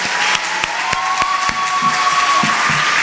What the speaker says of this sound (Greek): Μεγάλο χειροκρότημα στο κλάδι.